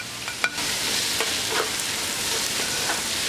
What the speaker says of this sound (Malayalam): ഇതിലേക്ക് സവാള ചേർത്ത് ഇളക്കി മിക്സ് ചെയ്തെടുക്കാം